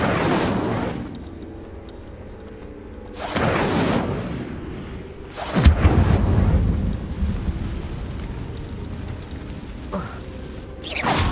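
In Hogwarts Legacy, the Incendio fire spell is cast: several heavy whooshing bursts of flame, loud and near, each flaring and trailing off, with a quieter rumbling gap between blasts.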